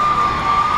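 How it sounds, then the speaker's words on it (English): A crowd cheers at an Army graduation ceremony at Fort Jackson, with smoke filling the air: a brief, loud, steady roar of many voices, with a sustained whistle-like tone running through it. "Silence erupts into cheers as smoke fills the air."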